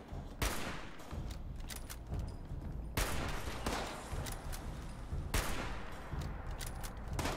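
Gunfire in Fallout 76, several loud close shots and sharp bursts spaced a few seconds apart, with rattling fire continuing between them and no voices over it.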